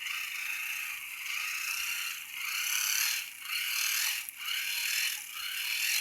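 Gears of a hand-crank flashlight generator turned quickly, giving a steady, close whirring ratchet-like buzz with a few brief dips in speed, and no voices.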